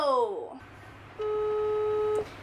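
A steady electronic ringback tone of an outgoing video call sounds for about a second after a brief falling chirp, then cuts off; no talking.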